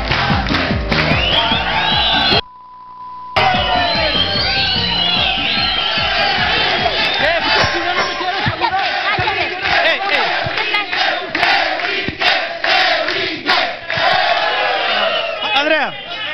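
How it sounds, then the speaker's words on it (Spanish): A studio audience on a Spanish-language talk show roars with loud, sustained cheering, shouts and whoops that rise and fall over about sixteen seconds, with a brief dip near the start and raised voices throughout. "Un aplauso para Andrea,"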